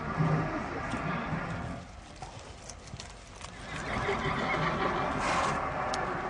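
Quarter horses' hooves clip-clop steadily on hard ground at a horse sale, with an occasional whinny over a busy background of crowd murmur and distant activity.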